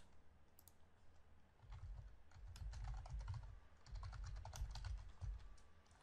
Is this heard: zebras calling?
no